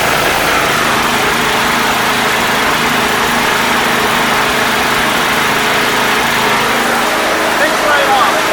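A snowblower engine runs loud and close at a steady, rough drone, holding an even pitch from idle and rising slightly toward the end as the throttle opens.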